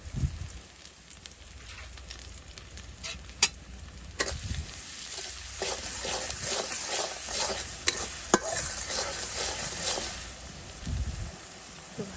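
Taro and chicken curry stirred and fried in a pan, with steady oily sizzling beneath frequent scraping strokes and a few sharp clacks of the spoon, continuous and close throughout.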